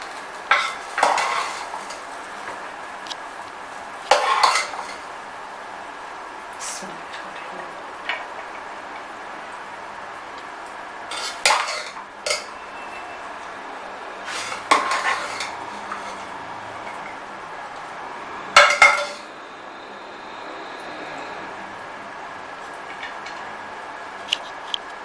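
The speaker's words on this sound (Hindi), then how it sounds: "अब हम इसको प्लेट में निकाल के बताते हैं।" Cooked chana dal khichdi rice is served from a pot onto a plate, heard as scattered clinks and scrapes of a spoon against metal and dishes, close and spaced apart, with quiet stretches between.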